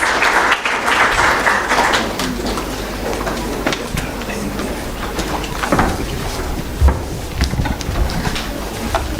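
A conference audience at the 13th AKMCC opening claps as the Vice Chancellor leaves, a broad, steady wash of clapping with rumbling movement and shuffling underneath for several seconds.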